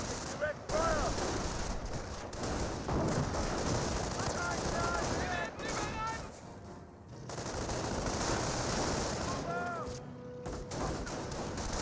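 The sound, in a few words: MG42 machine gun fire in video game Company of Heroes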